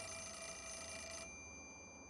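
A telephone rings in the Wii horror game Fatal Frame 4, a steady electronic ring with high tones that cuts off partway through, leaving a quieter hum.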